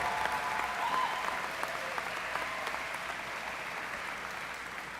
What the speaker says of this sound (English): Seniors, please take a moment to applaud your teachers and administrators